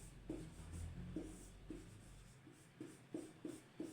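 Pen writing out a maths solution on paper, with soft scratchy strokes and taps in an irregular rhythm, close and quiet over a low background hum.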